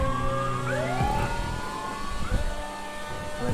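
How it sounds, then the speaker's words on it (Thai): A GTA Online police-style siren wails with rising and falling pitch sweeps, fairly quiet, over a low engine rumble. "เหมือนเสียงไซเรนตำรวจ"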